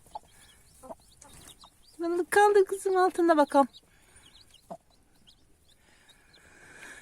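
Newly hatched chicks and a hen give a burst of clucking and peeping calls in the middle, near and fairly loud, with someone talking softly before and after.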